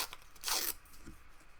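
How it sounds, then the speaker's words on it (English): Paper is torn by hand for an art project, a single brief ripping burst, fairly quiet and close, with a light crinkle afterward. "I like the randomness of ripping, and so just go ahead and rip some of these up."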